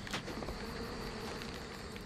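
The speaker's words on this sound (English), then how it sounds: "Can I shield the bees?" Bees buzz continuously in the video game Trine 2, a dense droning hum filling the whole stretch at steady moderate loudness, with no speech over it.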